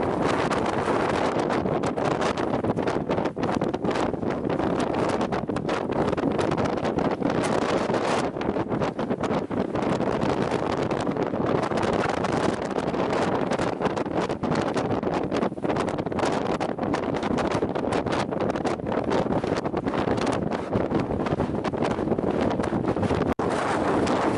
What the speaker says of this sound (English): Acclimate again to the wind.